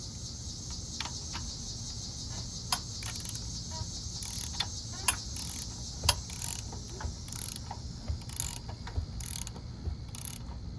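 A Honda Goldwing GL1500 engine turned by hand counterclockwise, giving a steady series of ratcheting clicks and mechanical ticks at close range over a persistent background hum; no talking.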